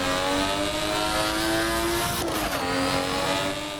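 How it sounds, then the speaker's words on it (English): A Toyota 1JZ engine sound mod in a racing video game, revving loudly and steadily with a strong harmonic drone and a brief gear-change dip partway through, no talk. "this has to be one of the best 1J sounds out right now"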